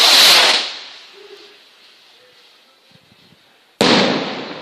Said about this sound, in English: So now we're launching another big one.